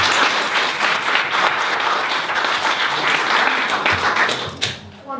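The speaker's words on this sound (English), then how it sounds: "So let's give her a big round of applause." An audience applauds at an event co-hosted by two MCs, a dense, steady wash of clapping from many hands that holds loud throughout and thins out near the end.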